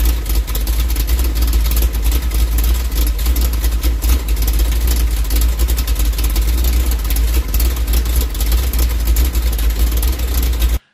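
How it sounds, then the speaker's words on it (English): A 406 small-block Chevy V8 with a Summit 1203 cam and Delco hydraulic lifters runs steadily, a loud, close, continuous rumbling idle with a dense low-end throb and no voices, cutting off abruptly at the end. "take a listen to how it sounded with the Delco lifters"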